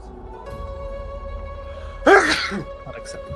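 One sharp sneeze bursts out partway through, loud and close, over a quiet background hum.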